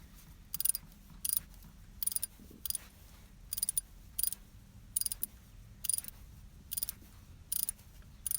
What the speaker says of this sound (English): Once we've got them most of the way in, snug those down and then we'll finish them off with the torque wrench.